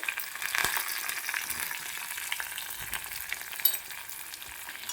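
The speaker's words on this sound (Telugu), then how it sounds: "ఇప్పుడు మనము ఈ ఆయిల్లో ఉల్లిపాయ, పచ్చిమిర్చి బాగా వేయించుకోవాలి" Onion, green chilli and curry leaves fry in hot oil with a steady close sizzle, broken by occasional scraping stirs, and no voices.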